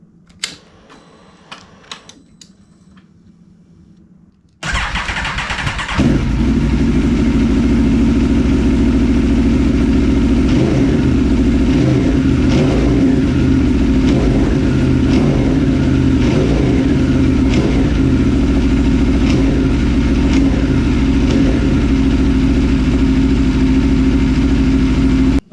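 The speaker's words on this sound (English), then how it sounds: "We'll see how that does when we restart the bike." A 2015 Aprilia Tuono RSV4 motorcycle with a freshly flashed ECU map fires up after a few quiet clicks, then settles into a loud, steady, close idle with light revs and no talking.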